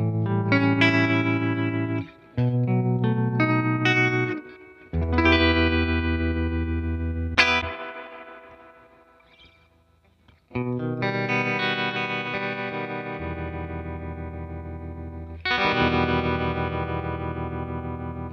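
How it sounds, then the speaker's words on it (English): An electric guitar plays chords through a Fender Tone Master Twin amp with its tremolo effect on, the sustained notes throbbing in volume and ringing out between strums, loud and close with no voices. "Now let's check out the tremolo."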